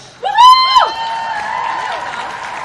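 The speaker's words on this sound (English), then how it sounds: "It's okay to give them a round of applause." A graduation audience cheers the graduates: a loud whooping voice rises and falls, then steady crowd applause and cheering fill the rest.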